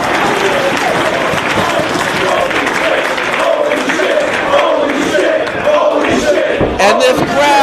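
A packed wrestling crowd at a 2004 Ring of Honor match between Bryan Danielson and Austin Aries applauds loudly and continuously, a dense wall of clapping and cheering that fills the whole stretch, with commentary talk underneath.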